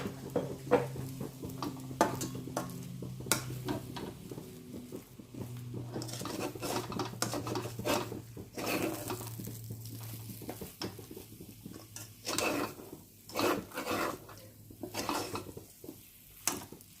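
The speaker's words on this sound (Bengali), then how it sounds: "এটা এইভাবে নেড়ে নেড়ে এখন ভাজতে হবে" Dhokar lentil cakes being stirred and fried in a pan: a steady sizzle runs under repeated scraping and clinking of a utensil against the pan, loud and close, with no talking.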